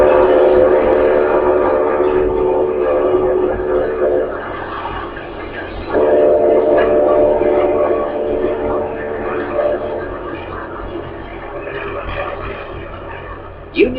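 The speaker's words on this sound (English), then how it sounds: "the Queen Mary is now responding to that multitude of screams, whistles and sirens that are blasting out at her" Ship sirens and whistles blasting in salute to the liner Queen Mary, long overlapping horn blasts sustained for many seconds, a fresh loud blast joining midway, a sharp whistle at the end, with a commentator talking over them.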